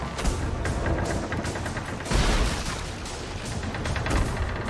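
Cannons on a fort in Sea of Thieves fire at a ship, a steady rumble of booming blasts with heavier thuds near two seconds and again toward the end, no voices.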